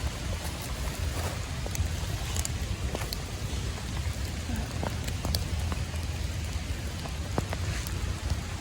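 Steady rain falls during mushroom foraging outdoors, a dense even patter with scattered sharper drops, continuous throughout and no talk.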